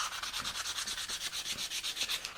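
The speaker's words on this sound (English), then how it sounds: "I should really wait for it to dry properly before I sand it" Rhythmic scratchy rubbing of sandpaper on green, undried wood by hand, steady back-and-forth strokes repeating about every fifth of a second, close and moderately loud.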